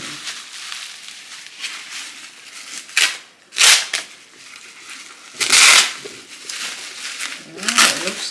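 Bubble wrap crinkles and crunches as it is pulled off glassware pieces from a storage unit, in irregular bursts of crackling rustle, close and fairly loud, with some talk in between.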